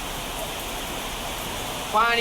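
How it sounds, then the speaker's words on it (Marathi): Heavy monsoon rain pours down during flooding in Dharashiv, Maharashtra. It is a dense, continuous hiss throughout, with a faint tonal sound rising at the very end. "मुसळधार असा पाऊस कोसळतोय"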